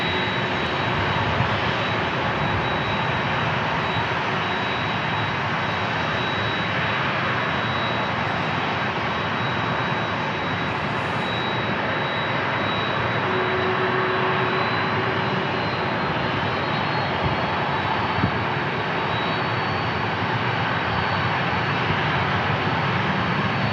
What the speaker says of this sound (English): United Airlines taking off on a 737-900